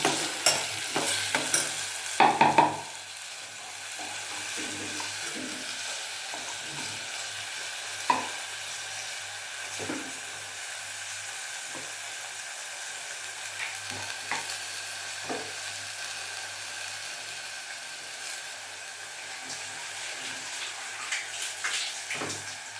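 Bitter gourd and small tomatoes sauté in a pan with a soft sizzle, broken by repeated scraping stirs of a spatula; a louder clatter near the start, then quieter stirring strokes with no talk.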